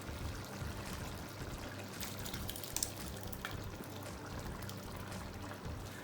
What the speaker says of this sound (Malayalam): അപ്പോൾ നമുക്കിതിനി കറിയിലൊഴിക്കാം.